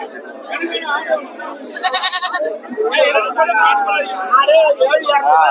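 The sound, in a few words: goat bleating at a goat market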